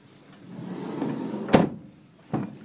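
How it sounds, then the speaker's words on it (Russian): The door of a 2012 Opel Vivaro van swings shut with a single solid thud close by, followed by a fainter second knock a moment later. "как легко закрывается дверь"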